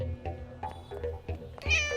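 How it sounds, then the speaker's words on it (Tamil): A house cat meows after knocking something over indoors, a few short close mews climbing into a louder, higher drawn-out cry at the end, with soft thuds beneath. "ஏதோ பூனை தட்டி விட்டுருக்கோம்."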